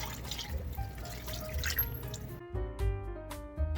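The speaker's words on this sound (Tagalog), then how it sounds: "Add ako ng tubig." Water poured into blended chicken curry in a pan, brief splashing and dripping that starts suddenly and then trails off into a few faint drops.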